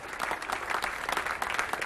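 Audience clapping steadily at a commemoration ceremony honoring students, a dense, even applause from a sizable crowd with no talk over it.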